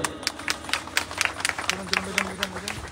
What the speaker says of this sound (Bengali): একবার জোরে হাততালি হবে